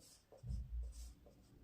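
Pen writing definitions of spherical mirrors for a class-10 reflection-of-light science lesson, a soft low scratching over about a second, faint and close, with no talking.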